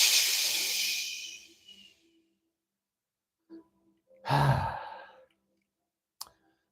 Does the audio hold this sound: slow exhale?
yes